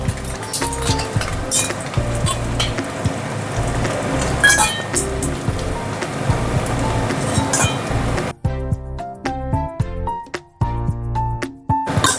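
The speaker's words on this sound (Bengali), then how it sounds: "মাছগুলো প্রথমে ভেজে নিই।" Fish frying in hot oil in a home kitchen, a dense hiss for most of the clip, then giving way to sharp metallic clinks of utensils against the pan near the end.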